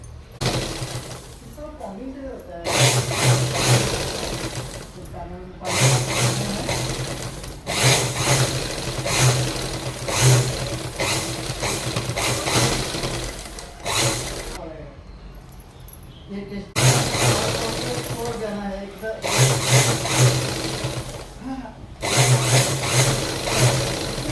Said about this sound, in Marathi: इथून एक शिलाई आणि इथून एक शिलाई, जेणेकरून त्याची फिनिशिंग व्यवस्थित वाटेल.